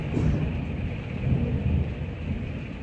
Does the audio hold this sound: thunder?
yes